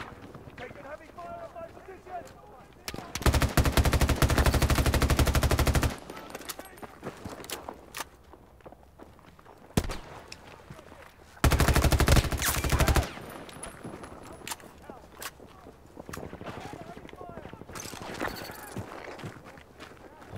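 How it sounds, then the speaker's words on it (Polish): Gunfire in Battlefield 2042, with two long, loud bursts of rapid automatic fire and a few scattered shorter shots over a quieter stretch where someone talks in Polish. "O kurwa, kto tam strzela?"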